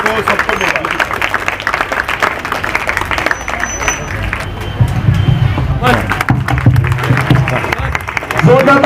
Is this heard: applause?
yes